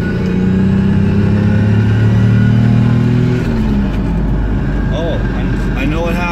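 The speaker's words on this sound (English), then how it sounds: "Okay, here's another third gear pull." A turbocharged Lexus GS300 makes a third-gear pull on a dyno, its loud, close engine drone rising steadily in pitch and then dropping off, with a voice talking over it.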